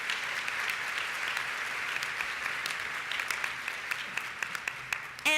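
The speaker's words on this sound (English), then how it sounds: "so please give them another round of applause." Sustained audience applause at a Kappa Delta sorority convention, many hands clapping loudly and evenly throughout, with a few sharper individual claps near the end.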